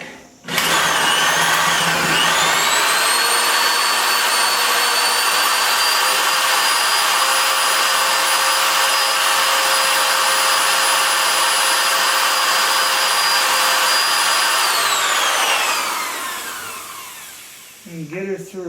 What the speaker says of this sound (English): We get our drill lined up.